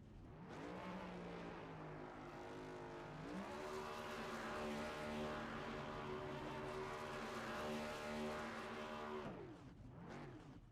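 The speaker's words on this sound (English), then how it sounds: "Andrew down there doing the burnout in the Greg Biffle themed car" A Greg Biffle–themed NASCAR Next Gen car does a burnout at Pocono in a racing video game. The sustained engine roar steps up in pitch after a few seconds, holds a high strained drone, then drops away near the end, heard fairly faint.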